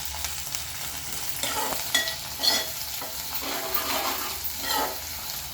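Ginger-garlic paste and onion fry in a pan for stuffed brinjal curry, a steady hissing sizzle broken by repeated scraping strokes of a spoon.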